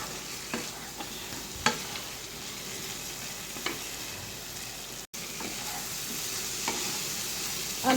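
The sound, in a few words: potatoes stirred into fried masala for fish curry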